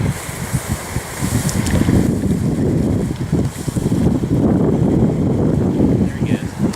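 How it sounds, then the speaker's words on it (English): Strong wind buffets the microphone beside the water during carp fishing, a steady rumbling roar that never lets up across the whole stretch, with a few faint sounds of handling and movement mixed in underneath. "it's quite windy"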